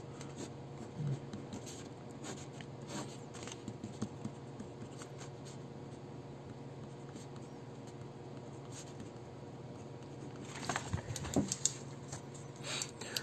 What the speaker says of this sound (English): let me draw a picture